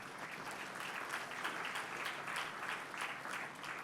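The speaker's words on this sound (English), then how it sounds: "invite them with a big round of applause" An audience gives steady, full applause for conference panelists, many hands clapping continuously at an even, fairly loud level, with no voices over it.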